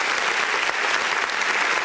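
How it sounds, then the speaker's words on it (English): An audience at a motivational talk claps loudly and continuously, a dense, even wash of applause close up that lasts the whole moment with no break. "Please give him a round of applause."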